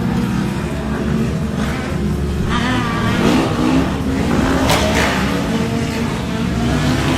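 Off-road side-by-side race vehicles at the start of a TEXPLEX race, a loud continuous engine rumble and revving that swells as the pack gets going, mixed with crowd and announcer noise.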